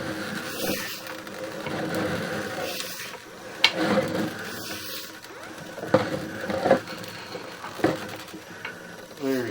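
Drain cleaning cable machine retracting its cable from a 6-inch clay sewer main, a steady mechanical whir with intermittent clanks and knocks close by, and a voice talking partway through.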